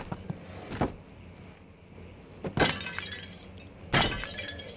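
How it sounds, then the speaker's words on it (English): Ash urns shatter in Amnesia: The Dark Descent on PS4, three separate crashes of breaking ceramic with bright debris trailing after each, set against a quiet, dim ambience. "Are these gonna shatter again?"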